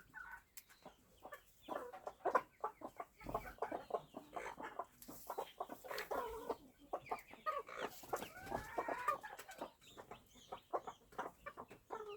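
Newly hatching chicks and chickens cluck and peep repeatedly at close range, bright overlapping calls with occasional louder rooster-like cries throughout.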